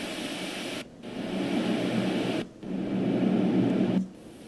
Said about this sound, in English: if you toggle through the white noise sounds